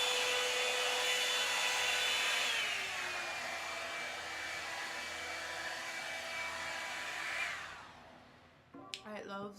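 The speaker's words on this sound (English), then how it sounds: "attempting to dry it with this blow dryer" A Revlon blow dryer brush runs steadily and close while drying hair, its whine dropping in pitch partway through, then cuts out near the end, followed by a brief clatter.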